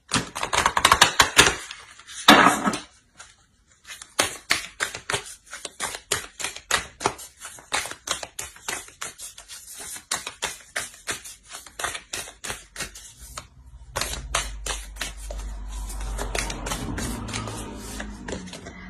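Oracle cards being shuffled and drawn during a tarot reading, heard as a long run of crisp, rapid card flicks and riffles close to the microphone, with short pauses between bursts and a softer rustle near the end, no talking.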